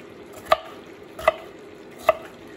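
Kitchen knife chopping a bell pepper into small pieces on a cutting board, three crisp separate knocks spaced evenly apart, close and clear over a quiet background.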